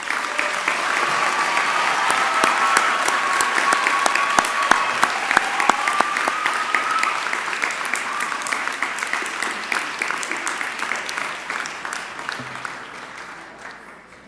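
An audience at a university commencement applauds its graduates with sustained, dense clapping from a large crowd that slowly tapers off, while a voice speaks faintly beneath it.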